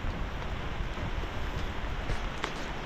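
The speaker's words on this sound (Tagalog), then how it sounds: "na po yung ulan, dumating na" Steady rain falls during a typhoon, a dense, even hiss that holds at a constant level with no talking.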